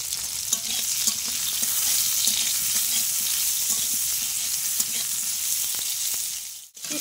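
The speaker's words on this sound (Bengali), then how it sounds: "উচ্ছেটা কোনো রকম একটু ভেজে নামিয়ে নেব।" Sliced bitter gourd fries lightly in a pan with a little salt, giving a steady, close hiss of oil with faint clicks of stirring throughout, dipping briefly near the end; no talking.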